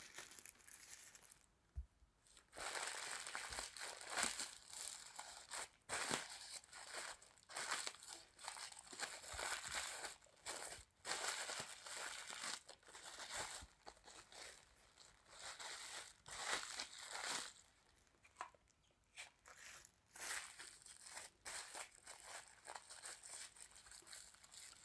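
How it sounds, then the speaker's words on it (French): Rubber balloon stretched over a sachet of flour while making a homemade juggling ball, giving a continuous close-up crinkling and crackling of plastic and rubber, with dense, irregular rustles throughout and no talking. "le sachet de farine, on va aller le recouvrir en fait avec le ballon"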